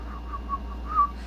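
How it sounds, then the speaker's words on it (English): A soft, wavering whistled tune, fairly quiet, with a brief brighter note near the end over a low steady background hum. "he just whistles without a care in the world"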